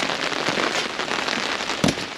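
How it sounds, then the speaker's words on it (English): Dense, steady pattering of heavy rain hitting a surface, with a sharper louder splat near the end; no voices. "Oh, it's raining cats and dogs."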